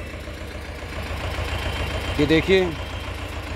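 An Escort 335 tractor engine idles with a low, steady, throbbing chug while someone speaks briefly over it.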